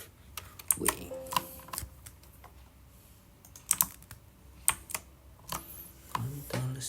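A computer keyboard is tapped in short bursts for a Ctrl Shift W shortcut while running a PLC ladder program, with close, crisp clustered keystrokes separated by brief pauses.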